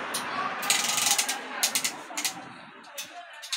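Self-measuring tape tightening around the hips as its knob is pressed, a quick sequence of small ratcheting clicks and whirring retraction, close and crisp, with a person talking alongside.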